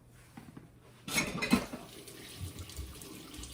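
Fingerling potatoes are rinsed under a running kitchen tap, with water splashing onto them and clattering against the sink for a few seconds, close and moderately loud.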